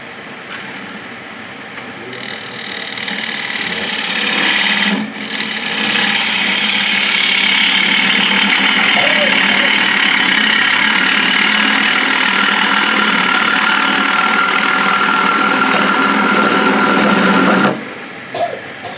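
Bowl gouge cutting wood on a lathe, a steady loud scraping whir that rises after a short start, holds for about twelve seconds with a brief break, then stops near the end.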